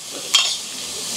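Okra frying in an oil-free cooker pan, a soft faint sizzle with two brief scraping stirs, close and otherwise quiet.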